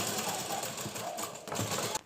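A domestic sewing machine runs steadily, stitching a lining joint on fabric, a close, continuous mechanical whir and clatter for about two seconds that stops abruptly at the end.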